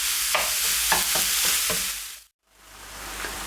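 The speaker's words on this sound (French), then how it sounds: "je baisse la température et je mélange comme il faut." Onions cooking in a pan on lowered heat are stirred with a spoon, a steady sizzle under a series of scraping strokes, then a brief silent break before the frying resumes.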